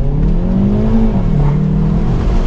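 A car engine revs hard right after a button is pressed in a new car, the pitch climbing then dipping in a single loud, close surge with no talking.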